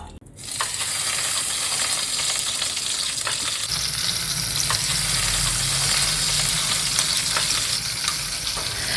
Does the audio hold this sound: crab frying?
yes